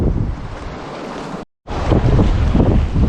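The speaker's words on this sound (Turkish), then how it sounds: "Hava biraz rüzgarlı." Strong wind on a seashore buffets the microphone in a loud, steady roar, broken by a brief silent gap midway before the gusting resumes.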